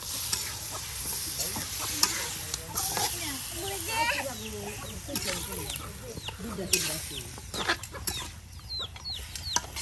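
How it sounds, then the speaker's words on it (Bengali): Cumin and garlic sizzle in hot oil for a village-style country chicken and eggplant curry, a steady close frying hiss with stirring scrapes, clucking birds and faint voices in the outdoor background. "এই যে দেখুন তেলে আপনার জিরা রসুন একসাথে দিয়ে দেওয়া হলো।"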